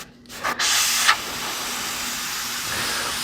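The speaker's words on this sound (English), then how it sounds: "So I'm just back blowing some cleaner to clean out the tip there." Cleaner is back-blown through an airbrush tip while miniature painting, giving a sharp close burst of spraying air that settles into a steady, even hiss.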